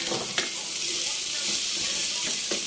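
Onions being stirred in a cooking pot for beef nilaga, giving a steady hissing sizzle with a few soft scraping strokes, close and continuous.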